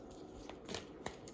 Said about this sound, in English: These are big cards, and I have tiny hands, so it's a little bit hard to shuffle.